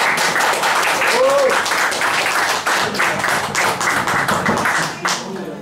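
A loud, close round of applause from the audience at an acoustic concert, with dense clapping and some cheering that stays strong for several seconds before tapering slightly at the end.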